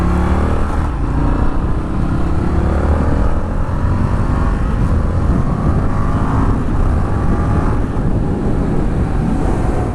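Indian FTR R Carbon motorcycle engine heard while riding, a steady loud drone with wind rush throughout and slight shifts in pitch as speed changes.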